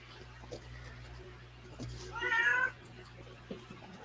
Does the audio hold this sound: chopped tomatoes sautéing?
no